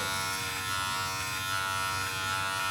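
Electric clippers buzz steadily up close, trimming a beard, a continuous motor hum with slight changes in load as they run through hair.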